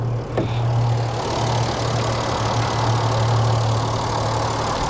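A 2012 Mercedes C300 CDI 4Matic with a 3-liter V6 diesel idles close by, a steady low rumbling hum with a constant drone and no talking.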